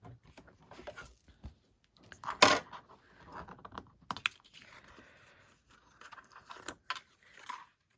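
Paper taped straight with Post-it tape is cranked through a perforating die-cut machine while making a card, giving close, uneven mechanical clicks and rasping bursts with short pauses between turns.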